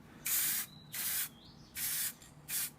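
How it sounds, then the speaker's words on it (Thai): Four short, loud bursts of film-expanding aerosol spray hiss over water in a hydro-dipping tank, evenly spaced with quiet gaps between. "ตอนนี้เราพ่นสเปรย์ขยายฟิล์มลงไปนะครับ"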